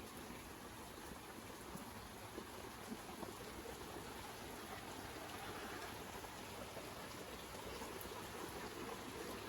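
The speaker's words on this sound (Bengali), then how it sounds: "এই দেখেন কি বৃষ্টি শুরু হয়ে গেছে" Heavy rain pouring steadily over a rooftop area in a Bengali neighborhood, a constant faint broadband hiss with no breaks and no voices.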